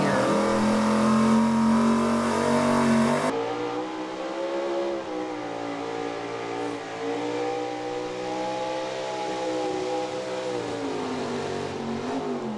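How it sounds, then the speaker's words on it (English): A gas pulling truck once run in Ohio, now from Pennsylvania, roars down the track at a truck and tractor pull, its loud engine revving and then settling into a sustained, rising drone. "if you're a fan of gas truck pulling, you know this truck right here"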